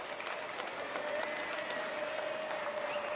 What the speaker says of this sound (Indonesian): boleh tepuk tangan buat kedua mempelai